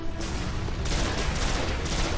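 Sustained automatic gunfire in the Destiny video game on Xbox 360, a dense, loud and continuous barrage of shots and blasts that gets slightly heavier partway through and never pauses.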